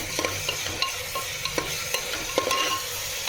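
Ginger garlic paste sizzles and fries in a pan while being stirred, a constant hiss broken by sharp scraping taps of the spoon at irregular intervals, close and loud with no talking.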